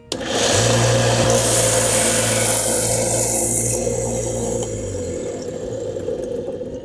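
A power tool sands plastic blaster kit parts down toward their seam lines, a loud steady motor whine starting abruptly, holding for several seconds with a rough grinding edge, then easing off and fading.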